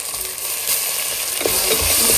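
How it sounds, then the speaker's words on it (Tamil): Ginger garlic paste sizzling and frying in hot oil for chicken biryani, a steady close crackle with brief stirring scrapes and no voices. "இஞ்சி பூண்டு நல்லா வதங்கட்டும்."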